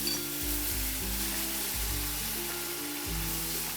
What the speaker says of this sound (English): So now in this we are going to directly add almond milk, so that is going to be around half cup to 1 cup.